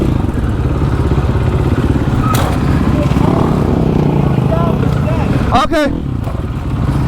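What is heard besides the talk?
motorcycle engine revving during supermoto wheelies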